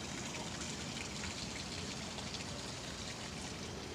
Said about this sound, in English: see it's raining